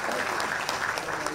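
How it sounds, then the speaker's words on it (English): A conference audience at a panel session claps briefly, a short burst of dense applause filling the room. "A better round of applause for,"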